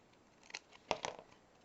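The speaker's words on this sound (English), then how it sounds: "This box is really hard to cut from." Scissors snip through a cardboard box while making a shelf, giving a few quiet, sharp crunching cuts in quick succession, close by with no talk.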